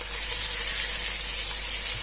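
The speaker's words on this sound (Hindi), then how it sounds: "अब ये बड़ा स्पून हमने ले लिया है लहसुन अदरक का पेस्ट और मिक्स करेंगे" Garlic-ginger paste hitting hot oil with light-browned onions in a pot for chicken korma, a loud, close, hissing sizzle that runs steadily for the whole short stretch with no talk.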